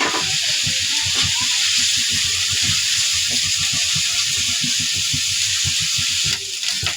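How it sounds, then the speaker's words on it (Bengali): Ginger, garlic and turmeric paste fries in a hot pan with a loud steady sizzling hiss, broken by rapid crackles and spatters throughout. "একটু আদা বাটা, একটু রসুন বাটা আর একটু হলুদ বাটা। মশলাগুলি আমি আগে ভালো করে কষিয়ে নিব।"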